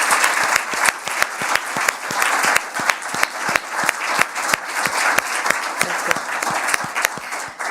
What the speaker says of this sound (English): they deserve a big applause